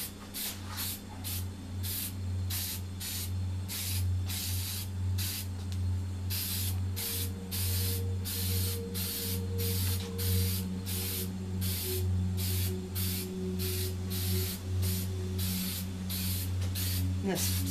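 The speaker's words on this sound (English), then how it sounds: "This spray painting these like this kind of fills the pores of the concrete" Aerosol sealant sprayed onto a cement garden statue in repeated short hissing bursts at a quick, regular rhythm, close and loud over a steady low hum.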